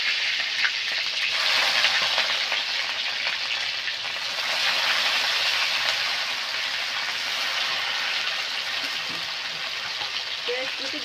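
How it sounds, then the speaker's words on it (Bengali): Chopped onions frying in a pan for a mutton curry, a continuous close sizzle that holds steady for the whole stretch, with faint stirring scrapes and no talk over it. "পেঁয়াজগুলোকে লাল লাল করে ভেজে নেব।"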